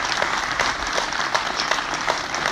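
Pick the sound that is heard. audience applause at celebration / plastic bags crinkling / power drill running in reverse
audience applause at celebration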